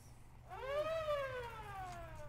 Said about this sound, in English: For a start, I'm hearing like a siren noise. Where's that siren coming from?